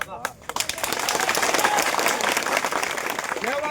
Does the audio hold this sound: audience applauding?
yes